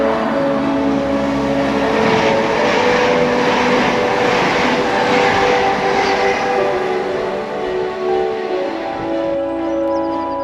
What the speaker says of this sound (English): here we can see a Gulfstream G550. He's off to Amsterdam.